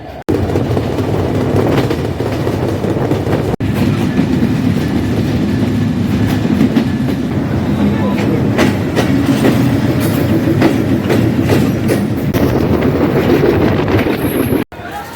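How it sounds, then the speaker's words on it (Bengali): Ruposhi Bangla Express, train 827 on the Benapole to Dhaka route, being pushed back into platform one, with a steady, loud rumble and clickety-clack of rolling wagons close by throughout and no talking. "আমাদের আটশো সাতাশ রূপসী বাংলা এক্সপ্রেস পুশব্যাক করে পিছনে নিয়ে যাওয়া হচ্ছে"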